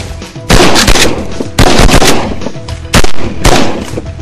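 Several loud, close shotgun blasts ring out in quick succession during duck and goose hunting in Alberta's Peace Country, each sharp report followed by a short echoing tail, with no talk.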